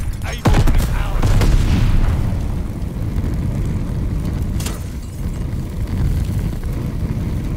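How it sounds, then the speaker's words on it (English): Grenade blasts in Call of Duty Vanguard multiplayer Domination: a sharp, loud explosion hits early, a rumbling boom rolls on under it, and a second crack follows midway, all over a steady, dense din of battle. "Throwing grenades!"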